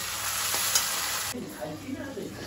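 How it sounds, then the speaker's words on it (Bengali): Tomatoes being stirred and fried with browned onions in a kadai, a steady sizzle that drops quieter partway through, with scraping stir sounds continuing, faint and close. "এবার টমেটোগুলোকে দিয়ে নাড়াচাড়া করে ভালো করে ভেজে নেব"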